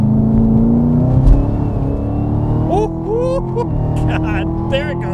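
A Chevrolet Camaro ZL1 accelerating hard, its engine roaring loudly and rising in pitch as it pulls, with wheel chirps partway through and people talking excitedly over the noise.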